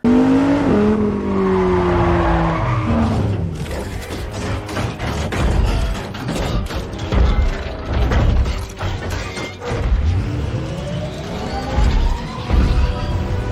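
AI-generated mechanical clanking, ratcheting clicks and whirring gears as a car transforms into a robot, with bursts of metallic clatter and rising engine whines.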